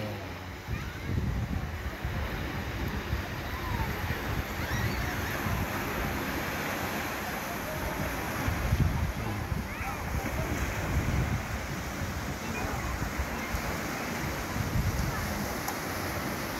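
Ocean waves at Katungkulan Beach in Cavite roll in as a steady wash of surf, mixed with strong wind buffeting the microphone throughout, with no clear voices.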